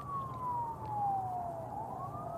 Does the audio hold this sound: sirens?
yes